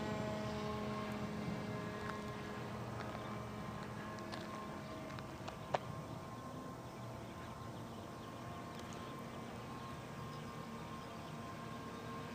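A Peace Drone model aircraft with a front canard flies at a distance, its motor droning steadily on without pause as the throttle is eased back, and a faint outdoor hum sits beneath.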